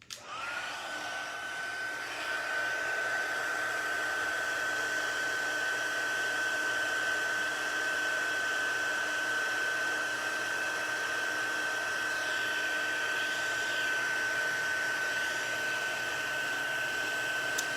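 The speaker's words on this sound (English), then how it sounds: "we are going to heat emboss again" A heat embossing tool blows hot air onto paper, a steady close whirring fan with a constant high whine that runs unbroken throughout, heard alone without talk.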